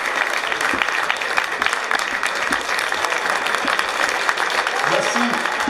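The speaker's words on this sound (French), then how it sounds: "applaudissez-la comme il se doit." An audience at a political meeting in Lyon claps in a dense, sustained burst of applause, steady and fairly close, with crowd voices mixed in throughout.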